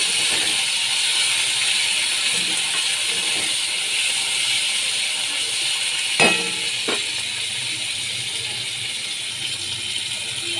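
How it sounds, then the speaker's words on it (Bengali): Yardlong beans (barbati) frying in oil in a pan give a steady, even hiss and sizzle throughout, with a brief clatter of a utensil partway through. "বরবটি ভেজে নিচ্ছি।"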